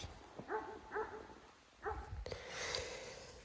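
Dogs bark in the distance, a few separate barks spaced apart, faint against an open outdoor background.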